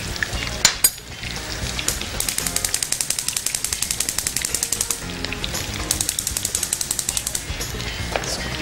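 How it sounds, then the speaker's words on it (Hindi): Vegetable manchurian balls frying in hot oil, a loud dense crackling sizzle with a rapid rhythmic tapping pattern running through most of it, no voices. "ये जो हमारे पास बॉल्स हैं ये तकरीबन फ्राई हो चुके हैं"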